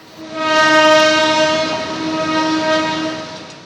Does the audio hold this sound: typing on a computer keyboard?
no